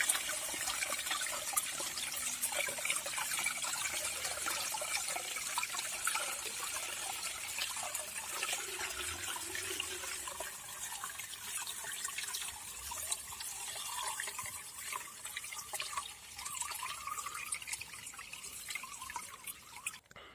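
Liquid from cleaning propolis is poured through a sieve, producing a continuous soft trickle and dripping with gentle splashes, fairly faint and close, running throughout without speech.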